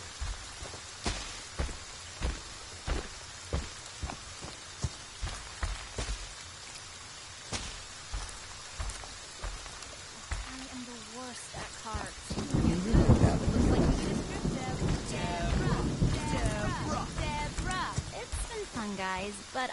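Rain and rolling thunder fill a scene in the Friday the 13th video game. Sharp, intermittent crackles come first, then heavier rumbling rain builds while voices talk over it.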